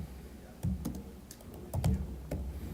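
Keys clatter on a computer keyboard as a short phrase is typed in bursts, soft individual clicks with brief pauses, close and fairly quiet.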